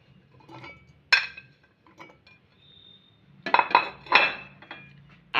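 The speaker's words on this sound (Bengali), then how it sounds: "জারে গাজরের টুকরোগুলোকে দিলাম" Carrot pieces dropping into a mixer grinder jar in a home kitchen, making a few sharp clinks and clatters, with a small sound early and a louder cluster of knocks near the end, close and fairly quiet.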